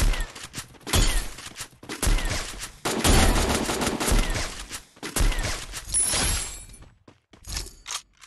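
Gunfire from the mobile battle royale game Free Fire, with dense bursts and rapid volleys of shots repeating across the stretch, loud and close, with short pauses between fights.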